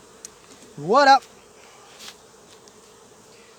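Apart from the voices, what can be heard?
honey bees buzzing around a beehive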